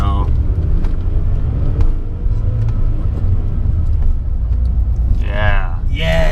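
A VW Bug engine rumbles low and steady as a learner driver eases out the clutch in stick-shift practice, with a brief voice near the end.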